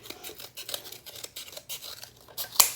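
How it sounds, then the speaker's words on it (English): Scissors snip through a paper template in a quick run of short, crisp cuts, close and fairly quiet, ending with a sharper snap. "And I will cut that out"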